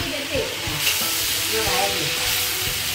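Masala roasting in a pan in a village home kitchen, a steady close sizzle and hiss with occasional stirring scrapes, running without pause.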